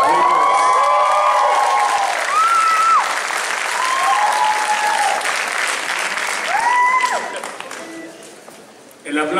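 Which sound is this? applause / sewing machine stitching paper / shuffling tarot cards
applause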